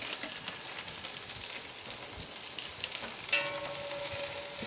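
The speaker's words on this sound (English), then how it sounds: "a little bit of garlic, just a little bit, okay, and our mushrooms. So we're just going to cook those gently." Garlic and mushrooms sizzle gently in a pan, a soft, steady crackle with light stirring clatter and a brief utensil knock midway.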